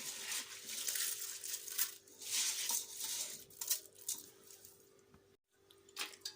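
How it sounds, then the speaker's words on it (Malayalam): Grated coconut, fenugreek, rice and onion being mixed by hand for thengachor, soft wet squishing and rustling in irregular bursts, close and quiet over a faint steady hum. "ഈ തേങ്ങയും ഉലുവയും അരിയും ഉള്ളിയും കൂടി ഒന്ന് നന്നായിട്ട് മിക്സ് ചെയ്ത് വെക്കണം."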